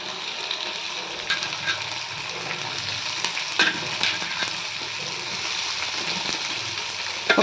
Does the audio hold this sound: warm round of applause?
no